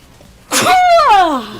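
A single loud, close human sneeze with a sharp intake burst followed by a falling, voiced tail, standing alone against quiet.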